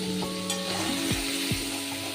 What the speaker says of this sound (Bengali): ক্যাপসিকামগুলো একটু ভেজে নেব।